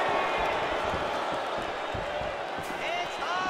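A crowd in the EA Sports UFC 4 fighting video game murmurs and reacts in a steady, moderately loud wash, with thuds of strikes and a commentator talking over it.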